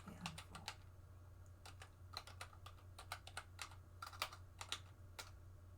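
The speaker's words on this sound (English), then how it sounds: "I'm just typing up some notes here for myself." Someone types notes on a computer keyboard, producing soft, irregular bursts of key clicks close by over a low background hum, with no speech.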